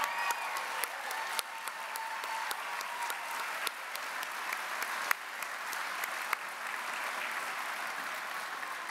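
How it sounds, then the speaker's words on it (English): An audience at the 2021 Western Heritage Awards induction ceremony claps in a steady, dense round of applause that runs throughout, with a few sharper individual claps standing out near the front. "She deserved applause from a lot of people."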